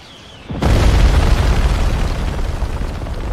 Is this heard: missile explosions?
yes